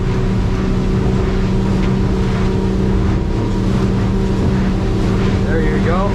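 A 25-foot North River motorboat engine drones steadily while the hull slaps and rushes through choppy water, with wind buffeting close to the microphone throughout.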